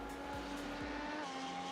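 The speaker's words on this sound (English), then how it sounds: "Oh, and his big lock up into T1." Tire lock-up under braking in iRacing, a race car's engine note dropping sharply as tires squeal briefly, with a steady high tonal whine over the engine.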